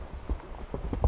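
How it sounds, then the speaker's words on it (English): A horse walking slowly during training, its hooves clip-clopping in a loose, uneven rhythm of several close, moderately loud strikes. "I was trying to train my horse."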